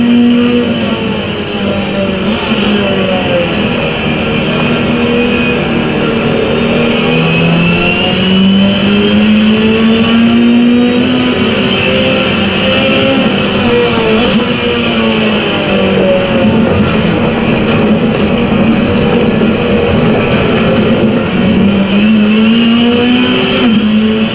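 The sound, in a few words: car engine and driving in a racing video game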